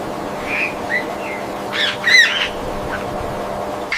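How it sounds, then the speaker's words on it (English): A small flock of parrots in dry desert land squawking while searching for food, a few short harsh calls and whistly chirps, the loudest burst near the middle, over a steady background hiss. "A small flock of parrots arrives, searching for food in the dry land."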